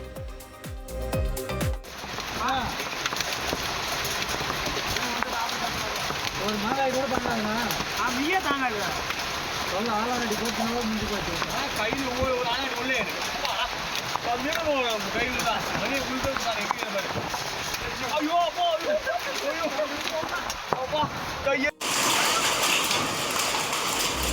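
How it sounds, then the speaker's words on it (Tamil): Hail mixed with heavy pouring rain lashes down in the Javadhu hills, a dense, steady roar that fills the whole stretch with a brief cut near the end. "ஜவ்வாது மலையில் வெடிகுண்டு வெடிப்பது போன்ற சத்தத்துடன் ஆலங்கட்டி மழை பெய்தது"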